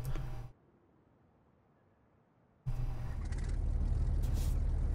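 A truck engine in Euro Truck Simulator 2 fires up from inside the cab after a brief quiet gap, settling into a loud, steady low rumble with a hiss of air.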